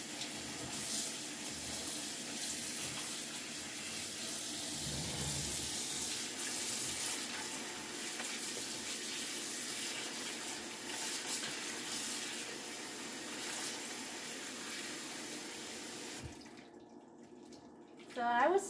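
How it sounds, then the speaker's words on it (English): Cold tap water running over salted cabbage to rinse it in a kitchen sink: a continuous close splashing stream for about sixteen seconds, then it stops abruptly. "rinse it out with some cold water."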